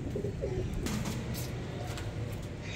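A pair of pigeons in a loft coo softly amid a steady background hum, the calls faint and intermittent with no talking.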